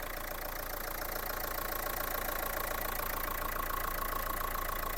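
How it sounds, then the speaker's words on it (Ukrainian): A Renault Megane 1.5 dCi diesel engine idles steadily at a constant, even drone with no voices, heard from nearby. "робота двигуна, двигун працює чітко."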